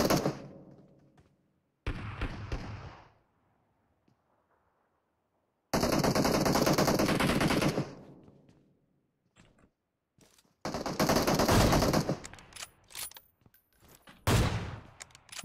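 Automatic gunfire in the mobile battle royale game PUBG Mobile comes in several loud, rapid bursts separated by short silences, close and dry with no talk over it.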